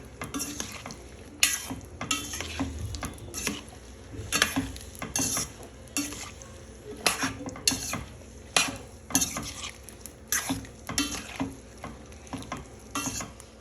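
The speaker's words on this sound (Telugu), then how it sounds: "ఈ విధంగా అన్ని కాయలు గింజలు అన్నీ కూడా డీప్ ఫ్రై చేసుకొని పక్కన పెట్టుకోవాలి." Vegetable pieces and seeds deep frying in hot oil for a homemade pickle, a steady close sizzle broken by frequent sharp scraping and stirring clatters of a spoon against the pan.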